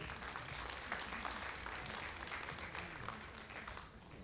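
An audience applauds steadily for a woman called up on stage, a dense, even wash of clapping heard at a distance and fairly faint.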